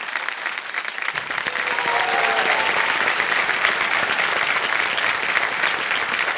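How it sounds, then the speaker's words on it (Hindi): Studio audience applause on a Hindi game show, rising after a quiet second into sustained, dense clapping from many people, with a voice faintly heard beneath it. "एक बार फिर अभिनंदन इनका तालियों के साथ करते हैं।"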